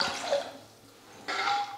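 Water poured into roasted rice powder for rice kanji in a home kitchen, heard as two close splashing pours separated by a brief quiet gap.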